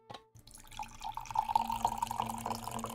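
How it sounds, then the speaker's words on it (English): Coffee poured from a pot into a cup: a quiet, steady liquid stream runs for about three seconds on its own, with a faint shake near the end. "every time I pour my coffee, I'm worried I'm going to make someone want to go to the bathroom"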